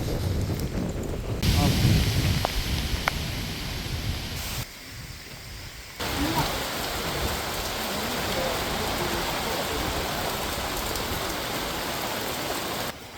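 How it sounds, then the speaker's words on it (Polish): Heavy tropical rain pours down with gusting wind near the Angkor temples in Cambodia, a dense loud hiss with buffeting wind on the microphone, steady throughout with a brief dip, and no clear talk. "Deszcz leje, ale już leje tak mocno, że nie dałoby rady zwiedzać"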